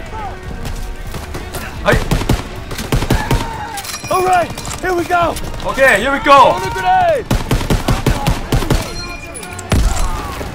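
M1 Garand rifle fire in the World War II shooter Call of Duty WW2 during the D-Day mission, with repeated sharp, loud gunshots in irregular bursts, clattering battlefield effects and someone talking over the action.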